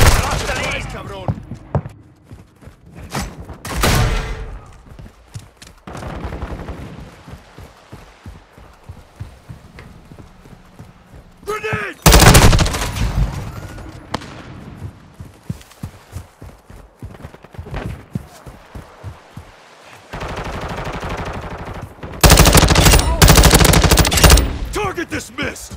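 Bursts of gunfire from a Call of Duty Modern Warfare II multiplayer match, loud volleys and sharp shots breaking in at intervals between quieter stretches, with game voice callouts heard among the shooting.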